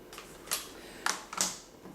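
Keyboard being slotted into the back of an iPad case, a few quick plastic clicks and scraping taps in close succession, faint and close, with no talking.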